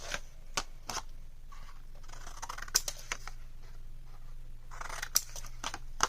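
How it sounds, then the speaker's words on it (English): Scissors snip and trim the edges of scored cardstock for a mini album, a series of sharp, close, crisp cuts spaced irregularly over a quiet background. "I'm going to take my scissors and miter those edges"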